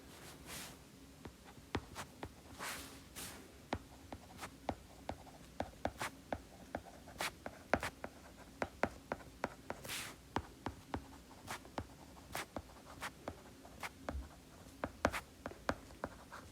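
A pen writes a full sentence on paper, giving soft, close scratching strokes with regular small taps and pauses, fairly quiet throughout and with no talking.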